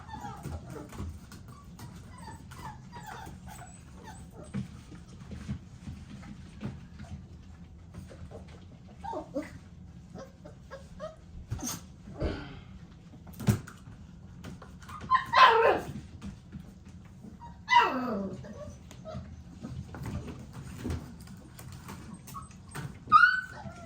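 American Bully XL puppies playing, giving scattered whimpers, yips and short barks over a steady low background hum, some close and some farther off.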